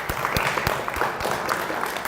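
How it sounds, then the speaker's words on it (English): Scattered audience applause for staff at a public forum in a library, with a handful of distinct nearby claps standing out over a thinner wash of clapping. "I think he deserves a round of applause"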